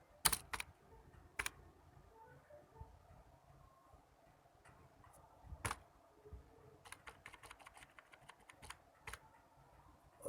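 Code is typed on a computer keyboard while building invoice and inventory software, producing irregular bursts of sharp, close keystrokes and clicks with quiet pauses between them.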